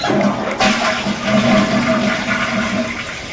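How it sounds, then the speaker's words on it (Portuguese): A hotel toilet with a push-button flush valve in Cariri, Ceará flushes: a loud, steady rush of water pours close by for a few seconds with no speech. "a água dura somente poucos segundos, como nas descargas com acionador"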